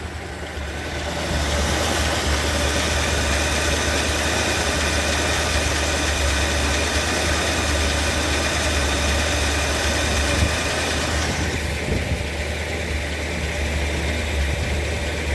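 A 1958 Edsel V8 with a freshly rebuilt Edelbrock carburetor idles steadily after firing up, its rumble even and continuous with a faint mechanical knock underneath, loud and close with no talking.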